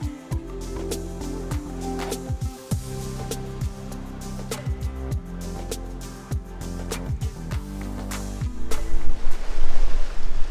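Surf at Blowing Rocks Preserve on Jupiter Island, Florida: a steady roar of ocean waves breaking on the beach, loud and close, with wind buffeting the microphone and a surge of heavier wash toward the end.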